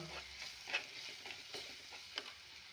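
A spoon stirs chilli powder and coriander powder into a softly sizzling pan of food, with faint scraping clinks over a low frying hiss.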